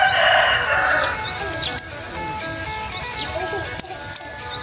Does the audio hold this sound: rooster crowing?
yes